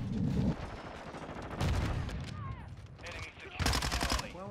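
Bursts of rapid automatic gunfire from the Minibak submachine gun in Call of Duty: Modern Warfare II, three loud volleys separated by short pauses, with game effects in between.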